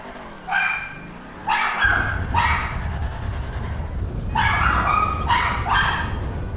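A dog named JJ barks in sharp, loud bursts: two early barks, then a cluster of rapid barks later, with background noise and no speech between them.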